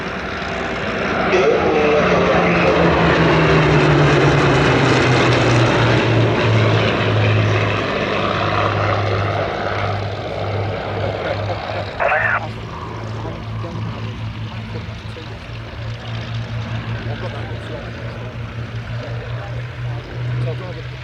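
A Hawker Hurricane propeller fighter flies a display at an airshow, its loud engine drone sweeping past and shifting in pitch as it passes, then fading to a steadier, more distant hum with faint voices from the crowd.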